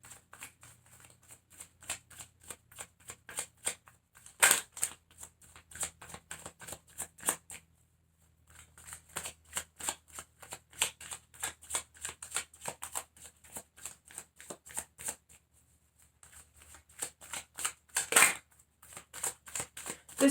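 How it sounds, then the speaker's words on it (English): Rapid riffling and shuffling of tarot cards, repeated in quick bursts with brief pauses, crisp and close, with no voices. "as I am shuffling this and looking at the cards"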